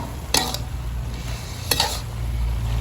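Kale and pork are stir-fried in a pan with oil, the utensil giving two brief metallic scrapes against the pan over a steady low hiss of frying.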